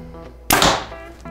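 A single shot from a Backyard Bows Bear Escalate compound bow fired without a stabilizer or any dampening: a sudden loud, sharp twang and thump that fades over about half a second, close up, with no talking.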